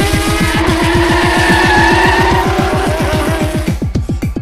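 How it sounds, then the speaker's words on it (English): Toy Hot Wheels race cars speeding down the first stretch of a track, a rapid rhythmic clattering buzz with whining tones that grows choppier and fades near the end. "Watch the cars go down the first stretch here"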